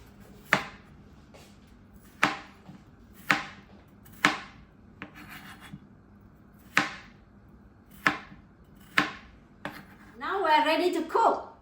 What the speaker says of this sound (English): Cut the potatoes into pieces.